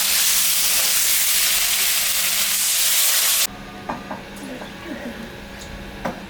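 Water poured into a pan of fried spices for a katla fish curry bursts into a loud, continuous hissing sizzle, then quiets abruptly into softer bubbling with a few light utensil clinks.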